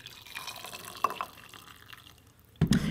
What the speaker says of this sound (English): I'm going to gently pour over him some boiling water